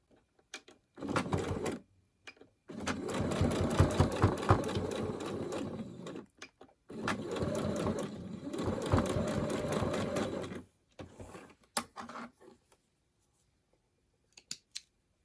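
A sewing machine stitches the seam of a fabric scrunchie watch band in loud, close runs of rapid whirring, separated by pauses, quiet handling and a few small clicks.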